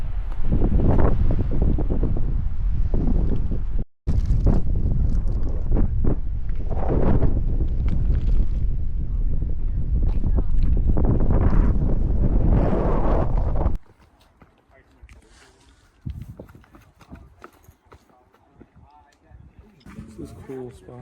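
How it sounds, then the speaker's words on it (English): Strong wind buffets the microphone on the Maine coast in a loud, continuous roar that cuts off abruptly, leaving quieter outdoor ambience with faint rustling. "Windy."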